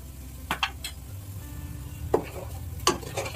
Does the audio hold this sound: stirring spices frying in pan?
yes